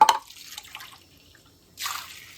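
Water splashes into a cooking pot with chopped apples in a home kitchen, a short burst of pouring at the start, a quiet gap, then a second pour near the end.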